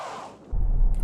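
A Ford Mustang holds in line lock as its rear tyres spin in place, a sudden loud low roar and rumble cutting in after a brief quieter hiss.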